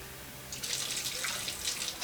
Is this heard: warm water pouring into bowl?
yes